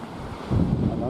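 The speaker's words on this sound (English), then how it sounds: "And the waves on the shore." Sea waves washing onto the shore at sunrise at Llandudno in Wales, a soft steady rush of surf with wind buffeting the microphone and a fuller wave surge arriving midway.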